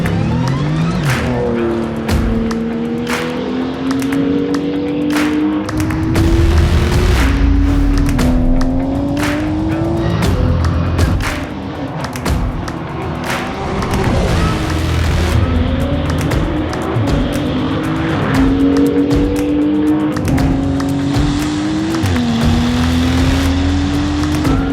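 A Porsche 935 race car climbs the Pikes Peak hill climb, its engine howling through repeated up-shifts and braking for turns, with occasional tire squeal, loud and close throughout.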